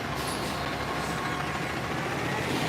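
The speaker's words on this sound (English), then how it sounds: "Trash truck is loud." A loud garbage truck on a brick-lined Baltimore street in Canton on trash day, its engine roaring in a steady, close, dense rumble with hissing mechanical noise throughout.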